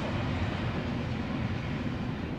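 A CSX freight train rumbling past, a dense, steady low roar of wheels and cars filling the whole stretch without voices.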